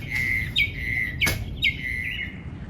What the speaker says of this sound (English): Birds are going crazy this morning.